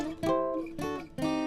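Three plucked guitar chords in a row, each ringing with stacked harmonic notes, evenly spaced and clear with no talking.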